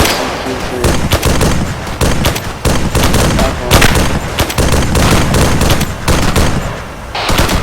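Sustained suppressing gunfire in a military video game, dense overlapping automatic bursts and rifle shots rattling loudly and continuously for several seconds with only brief gaps.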